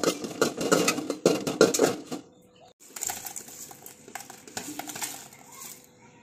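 Dried red chillies and bay leaves dry roasting in a pan give a close, irregular crackle and scraping rattle, busy at first, then a brief pause before quieter, steady sizzling and stirring continues.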